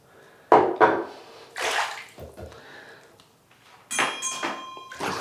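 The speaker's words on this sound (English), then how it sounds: "So we'll rinse the face." Face being rinsed with running water after a shave, giving several splashy bursts and trickles close by, with quiet gaps between them and a louder run of water toward the end.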